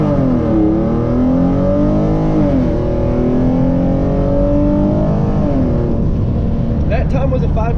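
A tuned Hyundai Genesis Coupe 3.8 with a manual gearbox launches hard, its loud close engine droning and rising in pitch through the revs, with a brief dip at a shift before it climbs again.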